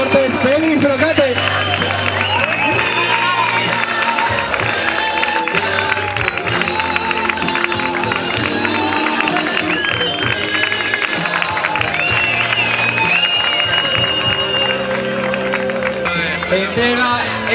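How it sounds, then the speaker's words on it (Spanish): A crowd applauds the winner at the Zaragoza 2024 half marathon trophy ceremony, steady clapping and cheering layered under music and voices throughout. "Un fuerte aplauso para ella."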